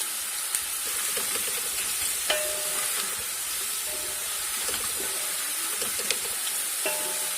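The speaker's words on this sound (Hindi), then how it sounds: "प्याज हल्की हल्की ब्राउन होना शुरू हो चुकी है।" Onions browning in a hot pan, with a continuous crackling sizzle and hiss and a few sharp ticks and clatters of stirring, close and alone without talk.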